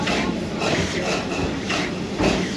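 A Serengeti Express train at Busch Gardens Tampa Bay rumbles steadily along its tracks, with a broad, continuous rolling roar, a faint hiss, and soft clacking pulses that recur every second or so, close and fairly loud.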